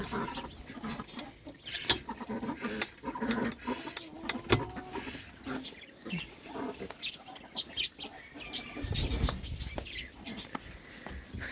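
Brahma chickens cluck and chatter in a coop on a snowy day, with close, irregular bursts of clucking and scattered sharp calls throughout.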